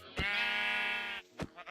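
A single sheep bleats in the video game Minecraft, a sustained wavering call lasting about a second, followed by a couple of short clicks and thuds.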